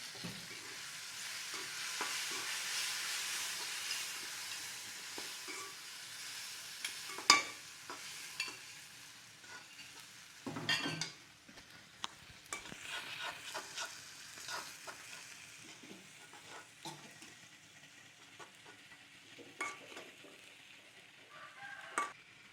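Okra sizzles softly in a pan with spice masala while a utensil stirs and scrapes it at irregular moments, with occasional clicks.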